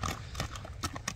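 A piebald horse moves nearby, its hooves clip-clopping in a few quick, uneven steps during a short burst of sound.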